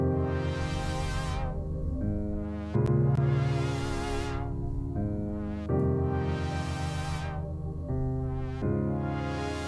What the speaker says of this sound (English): And then I have this synth that kind of makes it sound a little bit like future bassy.